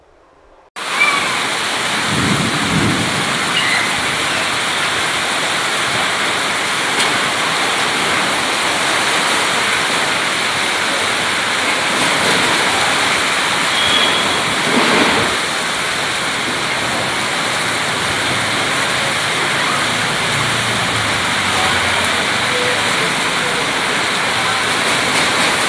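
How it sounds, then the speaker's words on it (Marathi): Heavy monsoon downpour pours continuously for nearly half a minute, a loud, dense, steady hiss with slight swells, no voices over it. "मागील 2 दिवसांपासून पडत असलेल्या मुसळधार पावसाबरोबर"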